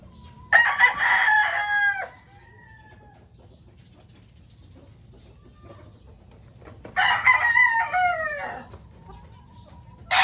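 A gamefowl broodcock rooster crows twice, close and loud, each call a rising then falling drawn-out crow separated by several seconds of quiet farmyard background.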